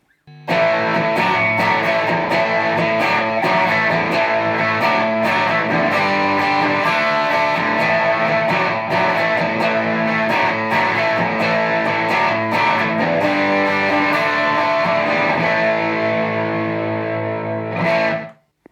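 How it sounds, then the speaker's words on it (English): Telecaster electric guitar through a TC Electronic Dark Matter distortion pedal, loud and continuous crunchy chord playing with picked accents, held to a fading sustained chord and a last quick strum. "let's check out how the pedal sounds with the almighty Telecaster"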